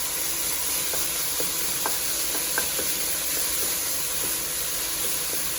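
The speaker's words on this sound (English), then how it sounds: "once your sausage has begun to brown, you want to add your onion and allow that to cook for about 2 to 3 minutes" Onion and browning sausage sizzle and fry in a pot for Zuppa Toscana soup, a steady close hiss with scattered light stirring clicks and no talk.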